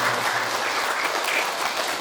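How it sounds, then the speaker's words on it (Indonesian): Close, lively applause from a gathering at an anniversary Mass, dense clapping that stays steady for the full two seconds. "Oke, tepuk tangan buat kita."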